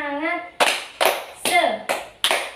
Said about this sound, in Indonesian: Sekarang Ibu akan memberikan tepuk semangat.